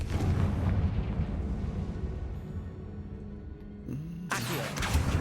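The Confringo blasting spell from Hogwarts Legacy goes off as a deep rumbling explosion with a rolling low roar that slowly fades, followed by a second sharp burst near the end.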